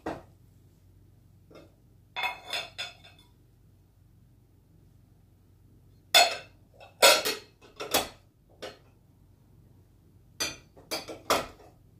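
Rae Dunn ceramic pasta bowls knock and clatter as they are lifted from a cupboard, in several sharp clusters of clinks separated by quiet pauses, close by with no talking.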